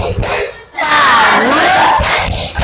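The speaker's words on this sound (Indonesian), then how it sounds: "Kita beri tepuk salut." Group of people giving a clapping salute while shouting 'salut' together, a loud, close burst of crowd voices and applause in a classroom setting.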